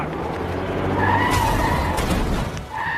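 Tires skid and squeal loudly as a car in a film scene lurches backward and swerves away, with a sustained engine roar beneath the screech that holds steady for about three seconds.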